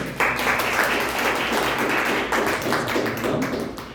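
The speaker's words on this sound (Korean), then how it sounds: "박수로 다시 한번" A church congregation claps after a prayer, a fairly close, even patter of many hands with some sharper individual claps standing out, sustained throughout without talk.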